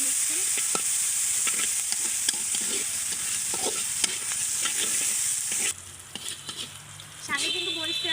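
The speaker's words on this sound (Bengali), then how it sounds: "পেঁয়াজ, কাঁচামরিচ ভেজে নিচ্ছি।" Onion, green chili and garlic fry in hot oil, a loud crackling sizzle with repeated stirring scrapes that drops abruptly to a quieter hiss midway, with a faint voice near the end.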